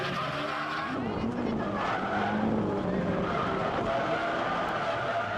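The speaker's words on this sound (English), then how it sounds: "Oh, Kubokawa into chase position straightens out of her drift." A drift car skids through a sudden-death final run at the 2011 D1SL Ebisu round, with a steady, loud roar of engine and tyre noise throughout while a commentator talks over it.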